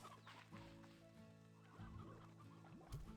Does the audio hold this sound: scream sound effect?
no